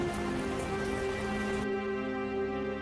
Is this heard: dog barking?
no